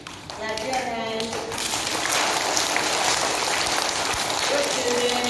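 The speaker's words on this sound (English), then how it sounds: "clap your hands." A classroom of children claps their hands together in a dense, steady burst that runs loud and close for several seconds, with a few young voices calling out at the start.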